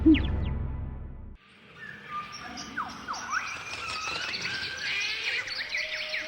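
Birds chirping in an animated Bible creation story: many high, quick tweets and calls overlap continuously for several seconds after a brief musical opening, with a faint insect-like trill beneath.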